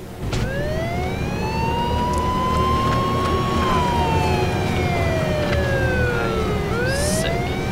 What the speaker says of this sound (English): Sirens all, everyone, sirens.